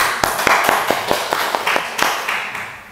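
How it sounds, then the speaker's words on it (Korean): A congregation claps at a Korean Sunday church service. Sharp, fairly rhythmic hand claps ring out about every quarter second over a softer wash of scattered clapping, loud and close. "박수 한번 해주세요."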